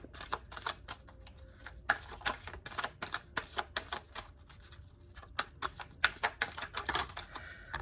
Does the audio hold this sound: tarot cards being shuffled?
yes